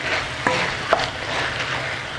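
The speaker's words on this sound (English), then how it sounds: "Mix it, mix it, mix it." Mixed vegetables with cabbage are stirred in a pan, with a low frying hiss and two sharp utensil clicks against the pan.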